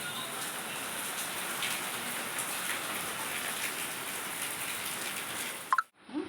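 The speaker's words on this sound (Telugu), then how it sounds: "మా ఊర్లో కనుమ రోజు కూడా వర్షం వస్తుంది" Steady rain pours down close by, a dense continuous hiss with scattered drops, ending abruptly with a brief knock.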